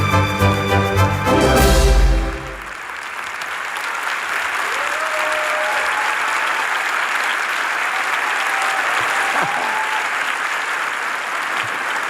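An audience at the 41st Istanbul Film Festival opening ceremony bursts into sustained applause, loud and dense, after a brief swell of music at the start; the clapping continues steadily throughout.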